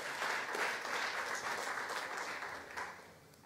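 A church congregation claps together in a steady, dense round of applause that holds at full strength and then eases slightly toward the end, with no talking over it.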